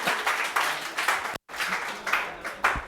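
Students in a classroom clap together in short bursts, with a sharp break in the middle before the applause resumes at a moderate level, lively and uneven.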